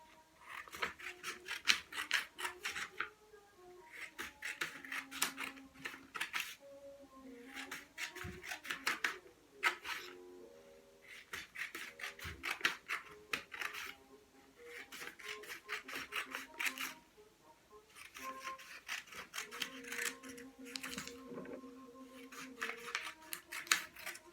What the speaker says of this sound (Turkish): Bakın bu şekilde kağıdımı keseceğim.